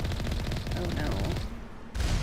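Sniper gunfire in the video game Mass Effect: a burst of rapid crackling shots and booming reports for about a second and a half, a short pause, then another blast. Distant, low-level game audio.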